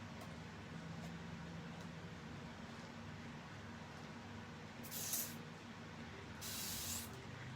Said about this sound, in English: That's why we have our handy dandy little fine misting spray bottle here.